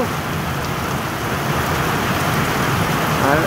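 Heavy rain pours steadily over a farm in St. Mary, Jamaica, during the rainy season, a dense, close, unbroken wash of falling water with no talk.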